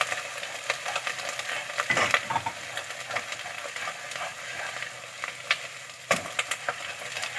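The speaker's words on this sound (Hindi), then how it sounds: "इसके बाद ये सारा मसाला जो हमने निकाल के रखा था ये डालेंगे।" Masala added to a pan for Lahori-style palak gosht fries with a steady sizzle under scraping stirs and a few sharp knocks, close and moderately loud, without speech.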